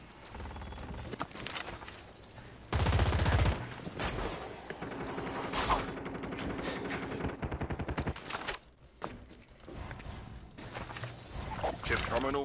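Gunfire in a shooter video game, bursts of sharp rapid shots and loud blasts scattered across the clip, mixed with other game sounds and irregular in rhythm.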